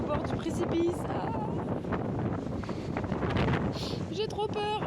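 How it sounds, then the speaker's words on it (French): Strong gusty wind buffets the microphone on an exposed mountain hiking trail beside a cliff edge, a constant roaring rush with brief rustling and faint voice-like sounds near the end. "Il y a beaucoup de vent."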